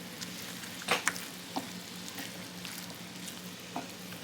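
Tofu pieces being stirred and tossed in a mixture of baking soda and vinegar, giving soft wet fizzing and sizzling with a few sharp clinks and scrapes from the utensil against the bowl.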